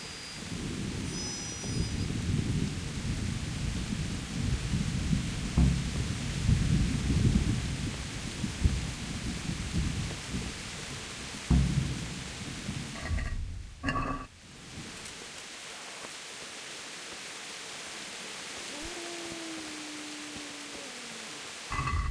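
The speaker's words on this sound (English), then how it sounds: "It's hard to hear over the rain." Heavy rain pours with deep rumbling thunder in the video game Kingdom Come: Deliverance. The rumble builds and fades, a short sharp crack sounds midway, and the storm drops to a softer steady rain hiss.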